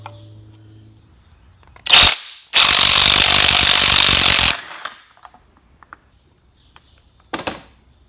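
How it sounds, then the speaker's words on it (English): A ratchet wrench removes the 1 1/16-inch yoke nut on a 1960s–70s Ford 9-inch rear end, with a short ratcheting burst, a longer loud two-second run, then a brief final click, close and alone. "Now we're going to remove the nut that holds the yoke on, and it's 1 1/16 inches"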